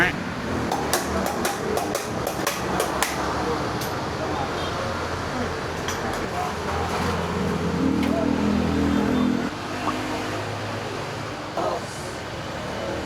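Sharp metallic hammer strikes land in a quick burst early on as a replacement ball race is driven into a Honda ADV 160 scooter's steering head, amid workshop and roadside traffic noise, with people talking nearby.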